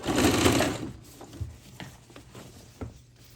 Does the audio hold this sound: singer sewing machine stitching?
yes